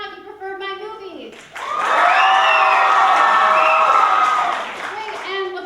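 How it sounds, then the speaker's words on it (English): A comedy-sports audience bursts into loud applause and cheering with shouts and whoops, sustained for a few seconds before fading, with a host's voice briefly before and after. "So applaud now if you preferred my movie."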